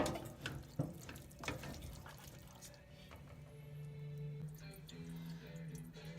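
Tap water runs into a kitchen sink while oxtail meat is rinsed, with splashing and clatter early on, then a steadier stream under a person talking.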